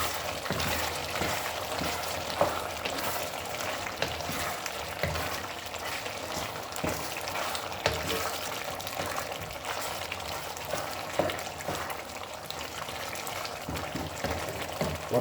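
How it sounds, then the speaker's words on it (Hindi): Steady crackling sizzle of chicken intestines frying hard in a hot pan on high flame, with occasional louder pops and stirring scrapes, close and continuous throughout. "अभी हम इसको कुछ देर के लिए भूनेंगे तेज़ आग पे"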